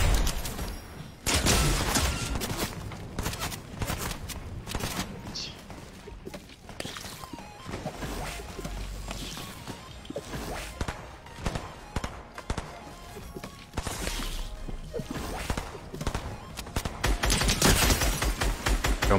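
Gunfire rings out in Fortnite: repeated sharp shots and bursts in scattered clusters, loud and close, mixed with footsteps and game effects, with occasional talk between players.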